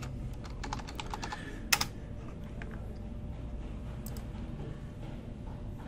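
Fingers tap out a username and password on a computer keyboard, a quick run of light key clicks followed by a sharper double strike, then sparse taps over a low steady room hum.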